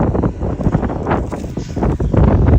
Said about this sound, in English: I know it's windy out